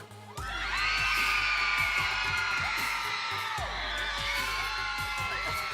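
A large crowd at the UCA International All Star Championship cheerleading event roars and cheers, with high whoops and children's shouts over a loud, sustained din that swells suddenly and keeps going.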